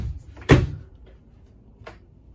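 A cabinet door in a 2022 Rockwood Mini Lite 2513S camper opens or shuts with one sharp knock, followed by a smaller click and a softer second knock, close by with no talk.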